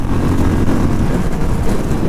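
Benelli Imperiale 400 motorcycle engine redlining through the gears, a loud, dense low-pitched rumble mixed with wind buffeting, steady and unbroken throughout.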